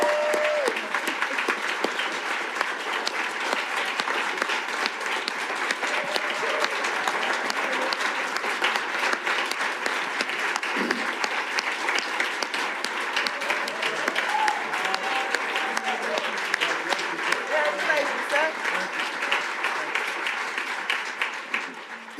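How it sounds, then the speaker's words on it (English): Steady, dense applause from a large crowd, sustained and loud throughout, with faint voices mixed underneath. "Give him a hand of applause."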